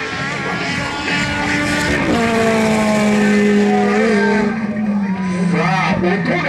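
Ferrari Challenge Stradale race car at an outdoor supercar event, its engine loud and droning with rising and falling harmonic tones as it accelerates past, with a crowd and commentator's voice mixing underneath.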